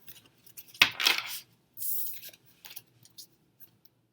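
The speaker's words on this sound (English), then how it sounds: "I'm going to go ahead and shuffle" Tarot cards are shuffled close by, with a few quick riffling bursts and soft flicks, separated by short pauses and no voices.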